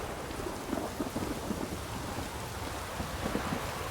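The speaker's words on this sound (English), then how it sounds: "A storm, damn it." A thunderstorm in the PC game The Witcher 3: Wild Hunt, with a dense, steady hiss of heavy rain and low rolling rumbles of thunder beneath it, continuous and fairly loud throughout with no voices.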